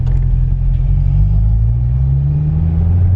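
Corvette C6 engine under engine braking, a steady loud low rumble with a smooth rising harmonic sweep as revs lift during a rev-match blip, continuous and close throughout.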